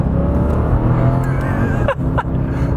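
A Mercedes CLK DTM supercar's engine roars loud and close from inside the cabin, a dense continuous drone with rising tones as it accelerates, briefly dipping near the end as if shifting gear.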